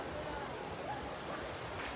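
Sea waves wash steadily against a rocky shore behind a seaside temple, a continuous broad rush with some wind noise and no talk.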